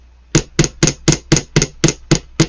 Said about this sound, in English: Put it on your block, and you just hammer the end